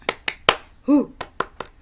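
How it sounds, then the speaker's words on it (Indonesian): A quick run of sharp hand claps in a lively rhythm, with a short sung or shouted tone between the claps. "Tepuk semangat."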